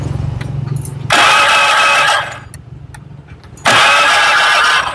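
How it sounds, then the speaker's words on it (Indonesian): Motorcycle engine cranked twice with its electric starter after a crankshaft rebuild, each start a loud whirring burst lasting about a second and a half, separated by a quieter low running hum. "Coba-coba starter."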